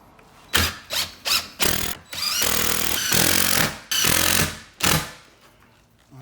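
A power drill driving screws into a pre-drilled wooden block, with several short whirring bursts followed by longer sustained runs that ramp up and stop abruptly, loud and close.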